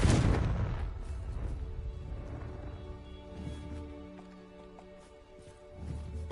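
A Confringo spell from Hogwarts Legacy goes off in a loud fiery blast at the start, its roar fading into a low rumble and ringing tones, with another thump near the end.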